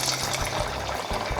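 Torrontés white wine glugs from a bottle into a glass, a close, continuous liquid splash and gurgle lasting over a second.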